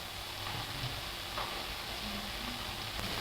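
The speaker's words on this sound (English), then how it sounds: "I have to keep turning this so to make sure that the peppers will cook." Peppers fry in a pan with a dense, even sizzle held close and steady throughout, with a few faint knocks as they are turned. No voices.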